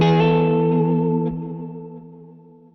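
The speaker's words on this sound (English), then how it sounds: "There might be a hint of warble in there, but really we're like darkening that delay a bunch." A guitar chord played through a tape delay effect on a ToneX FX pedal rings out with dark, warm repeats. The sustained tone fades gradually over a few seconds with a slight warble, and nobody talks.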